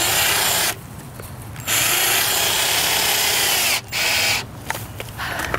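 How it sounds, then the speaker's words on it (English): A power drill drives exterior screws into a wooden garden bed in loud, close bursts of whirring, about three runs separated by brief pauses, with no talk. "after I drilled the pilot holes, it was pretty easy to get the screws in there"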